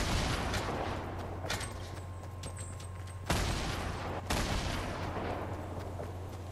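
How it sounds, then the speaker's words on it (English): Gunfire in the Destiny 2 video game, a dense continuous rattle of shots with a few sharper bursts and cracks standing out over the steady din. "Who in the hell is shooting?"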